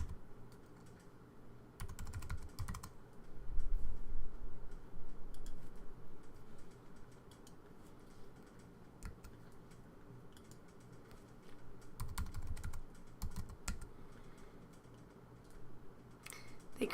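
Someone types a password on a computer keyboard with quick, irregular bursts of light key clicks close by, pausing between runs. No one speaks.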